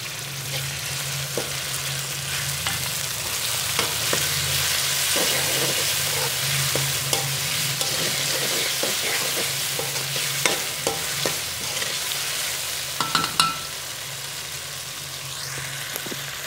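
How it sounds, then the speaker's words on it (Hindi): Tomatoes frying in a pan for chicken kachnar, with a steady broadband sizzle throughout and intermittent scraping clicks from stirring, close and continuous with no talk. "टमाटर डाल दिया, अब इसकी थोड़ी सी भुनाई कर लेंगे।"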